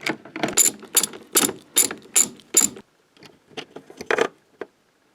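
A ratchet clicks in quick, loud bursts while loosening the 17 mm seatbelt anchor bolt inside a W140 Mercedes-Benz S-Class, about seven strong strokes and then a few fainter ones after a short pause.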